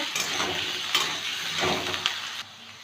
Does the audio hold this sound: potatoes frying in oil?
yes